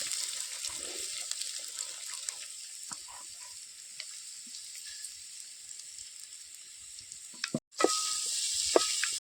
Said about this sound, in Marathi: मी ह्याच्यात आता तांदूळ टाकतो